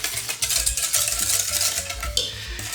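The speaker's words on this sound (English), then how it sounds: "and we're going to whisk that in really good." Oat milk being whisked into a matcha protein ice cream mix, a quick steady scraping and clinking of a whisk against a bowl, close up and without talk.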